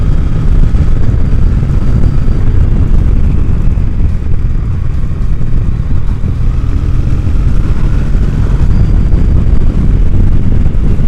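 A Triumph Bonneville motorcycle rides along the A20 road, its engine a steady, loud, continuous low drone blended with heavy wind rush at the microphone, with no pauses.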